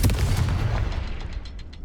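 A Confringo fire-spell blast in Hogwarts Legacy erupts as a dense, booming burst with crackling decay that fades over about two seconds.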